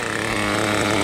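A used CEN nitro RC car with an OS 18 CV engine idles steadily, a close, continuous buzzing drone with no speech over it.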